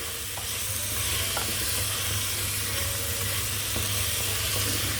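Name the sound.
stirring turmeric and cumin seeds frying in a pan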